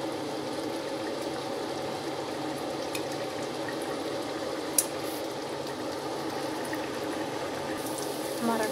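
Mutton for karahi fries in oil and ghee, giving a steady, even sizzle that runs throughout with one sharp click partway through.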